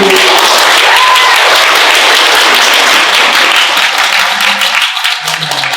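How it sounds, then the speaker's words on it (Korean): A church congregation at an Easter Mass applauds their priest, loud steady clapping filling the space for several seconds, with a few voices faintly audible underneath as it thins out. "시부님께 박수!"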